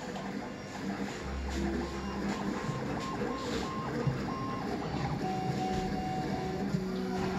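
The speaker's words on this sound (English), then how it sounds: "Printing a cube at 150" A V-Baby CoreXY 3D printer prints a cube at high speed, a continuous whirring hum from its stepper motors with shifting tonal whines and beeps as the head changes direction rapidly.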